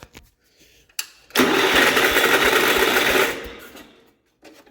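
A 1967 Gravely 430 tractor engine that had sat outside for years cranks and tries to fire, a loud rapid churning that runs for about two seconds before fading away.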